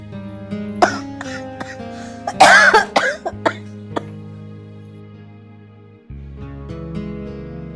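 An elderly woman coughs repeatedly in harsh, throaty bursts, clustered in the middle, then quiets to faint breathing and low background hum.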